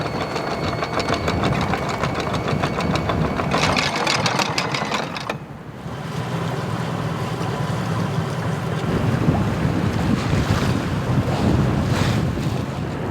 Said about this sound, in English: It's a bit more wind today, but I think the waves looks alright